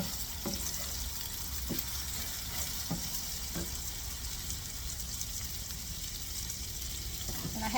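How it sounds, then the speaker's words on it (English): Tamale pie filling sizzles and fries in a pan over medium-high heat, with a steady crackle underneath and several soft scraping stirs of a spoon spaced every second or so. "I want you to stir this around and cook this a bit."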